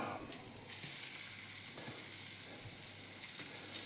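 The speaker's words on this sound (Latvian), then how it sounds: "To reņģi olā, miltos un uz pannu." Herring coated in egg and flour sizzles and fries steadily in a pan, a continuous close crackling hiss with no talk over it.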